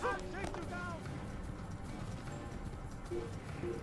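Horse hooves clip-clop in a rhythmic gallop in the Assassin's Creed video game, steady and moderately loud, with game voices and chanting in the background.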